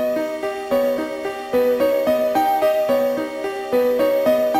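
A theme from the Pokémon video games plays as a looping synthesized melody built on a whole-tone scale. Steady arpeggiated notes repeat in even, bouncing patterns at constant loudness, with no voices.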